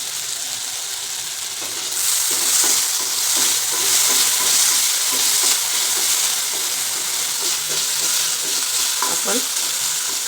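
Diced potato and chopped green chilli fry over low flame in a pan, giving a steady, close sizzle that swells after the first two seconds and keeps crackling with light stirring scrapes.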